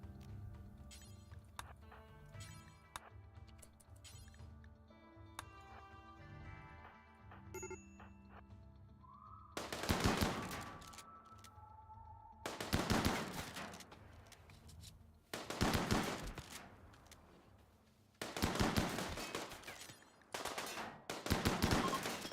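Gunfire in the colony game RimWorld comes as several loud bursts of rapid shots spaced a couple of seconds apart, following a quieter stretch of game music and small effects.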